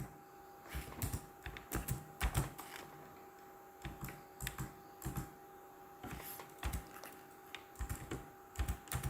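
Typing on a computer keyboard, irregular bursts of close key clicks with short pauses, steady and moderately quiet, no talking.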